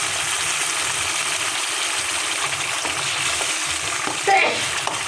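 Steady, loud sizzling and bubbling of mutton gravy in hot oil as two tablespoons of yogurt go in, over medium-low heat, with a brief stir or clink near the end.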